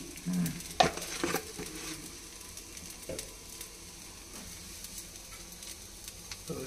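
Pitha rice cakes frying in a pan during home Bengali cooking, a soft steady sizzle under scattered scraping and clinks of a utensil, close and fairly quiet with no talking.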